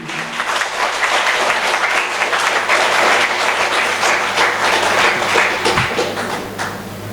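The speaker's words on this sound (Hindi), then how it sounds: "हाथ उठा करके जोरदार तालियां डेम्सन हर्ब के लिए" An audience at a company first-anniversary celebration gives loud, sustained applause for about seven seconds, a dense wash of many hands clapping together without a break.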